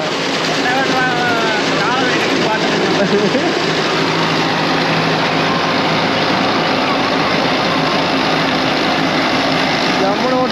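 Diesel engine of a Sonalika 60 DI 4x4 tractor runs at a steady, loud drone with no gaps, under occasional people talking.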